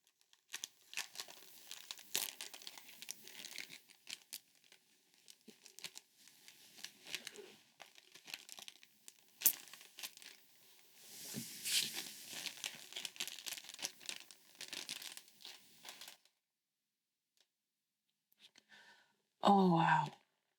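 Plastic wrapping crinkles and tears off a soft-cover B6 paper planner in bursts of close, continuous rustling for about sixteen seconds, then goes quiet before a short loud handling noise at the end.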